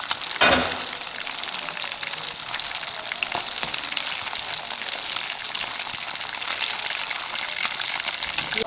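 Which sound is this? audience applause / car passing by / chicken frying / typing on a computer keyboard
chicken frying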